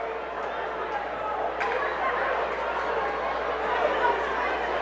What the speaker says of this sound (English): voices of displeasure from the crowd